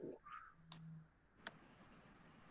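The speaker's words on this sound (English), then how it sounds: "Are you guys typing?" A single sharp click stands out with a few fainter taps around it, like keys struck on a computer keyboard during an online general assembly meeting, heard alone and quite quiet.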